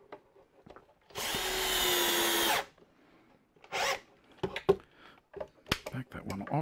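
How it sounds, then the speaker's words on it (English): A power drill drives screws into a wooden drawer cabinet, first one long loud whirring burst, then a shorter burst, followed by knocks and handling noises, with someone speaking nearby. "Back that off because it was on drill, not on clutch."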